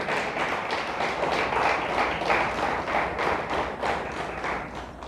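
Church congregation applauding God after the pastor's call, a dense, steady clapping of many hands, loud and close, sustained through the whole stretch without talk.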